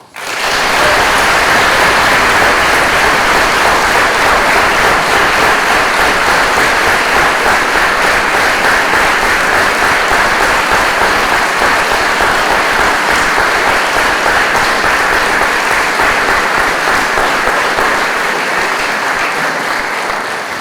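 A long, loud round of applause from a crowd gathered in a school hall for the opening of the fall term, a dense, unbroken roar of clapping that rushes like heavy rain and sustains evenly for about twenty seconds.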